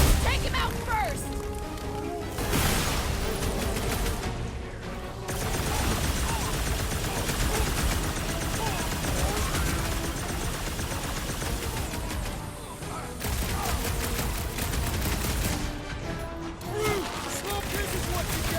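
Gunfire, crashes and explosive impacts from combat in Guardians of the Galaxy go on almost continuously at high volume, with characters shouting and talking over the battle.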